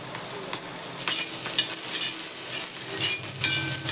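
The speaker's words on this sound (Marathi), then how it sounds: "मस्त अशी भाजून घ्यायची गवार आणि मिरची" Cluster beans and green chillies roast in an iron pan, giving a soft crackling sizzle with intermittent stirring scrapes and light clinks, close by and without talk.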